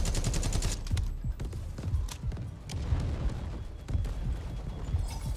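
An artillery barrage lands in the shooter game Delta Force: Hawk Ops, with a rapid, uneven string of loud thumping impacts and bursts rolling continuously throughout.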